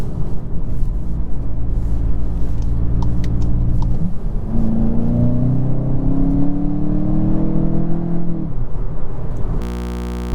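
A 2023 Volkswagen Jetta GLI with a dual-clutch gearbox holds a steady interior engine drone, then downshifts and accelerates hard. The engine note climbs in pitch over several seconds before easing off, and no one speaks.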